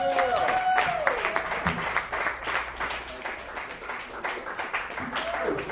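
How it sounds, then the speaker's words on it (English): A comedy-club audience at a dive bar claps and cheers for a comedian finishing his set, dense applause filling the room with a voice briefly heard at the start. "Another round of applause for Mr. Sean Lynch."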